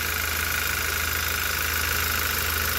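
Idling engine of a 2009 Audi A4 B8 2.0T wagon on a cold start with misfires, a steady close low rumble with a faint rhythmic pulsing throughout and no voices.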